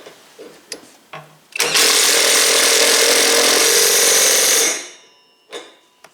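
An impact wrench whirs loudly and steadily for about three seconds tightening a lug nut on a 2013 Mustang GT, then winds down, with a few small clanks and knocks before and after.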